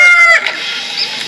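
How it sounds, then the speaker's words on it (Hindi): A rooster gives a short, loud call that trails off into a quieter, faint cluck. "मुर्गा को हम इंग्लिश में कॉक कहते हैं।"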